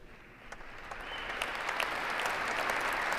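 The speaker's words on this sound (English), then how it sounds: "I love that the people can't help but clap." Audience applause at a political speech, a steady wash of many hands clapping that swells gradually and stays fairly faint and distant, with no voices over it.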